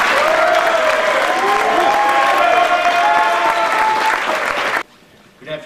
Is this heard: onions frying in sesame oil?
no